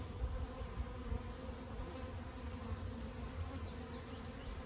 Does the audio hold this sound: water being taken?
no